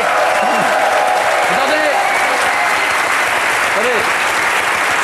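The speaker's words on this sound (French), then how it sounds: "Vous pouvez l'applaudir." Studio audience of a French Christmas TV entertainment show applauds steadily and loudly throughout, with a voice speaking over the clapping.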